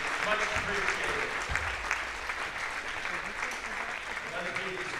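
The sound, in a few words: applause for seniors and parents at basketball game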